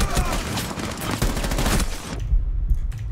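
In a Rainbow Six Siege match, rapid automatic gunfire rattles in a dense, loud burst of close shots that cuts off, followed by a few scattered heavy thuds and softer in-game sounds.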